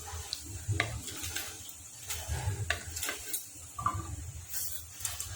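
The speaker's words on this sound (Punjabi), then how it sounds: "ਜੀਰੇ ਤੇ ਹਿੰਗ ਨੂੰ ਆਪਾਂ ਥੋੜੀ ਦੇਰ ਬਣਾ ਲਵਾਂਗੇ" Cumin seeds and asafoetida frying in hot oil in a pan for a dry paneer and onion dish, a soft steady sizzle broken by scattered clinks and scrapes of a spoon stirring against the pan.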